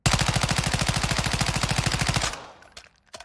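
A Chimera assault rifle in Modern Warfare II fires one fast, evenly paced automatic burst of about twenty-five shots, loud and close, then stops abruptly with a few faint clicks.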